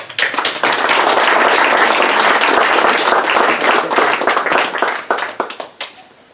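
Audience applause at a TEDx Hilton Head talk welcoming speaker Rex Gale: a dense, sustained burst of many hands clapping that thins into scattered claps at the end.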